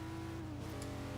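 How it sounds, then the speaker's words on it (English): A Hyundai Genesis 3.8 V6 in Forza Motorsport 4 holds a steady, continuous engine drone at moderate loudness, with no talk over it. "The car sounds like any other V6."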